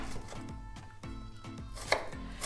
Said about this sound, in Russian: я беру одну крупную луковицу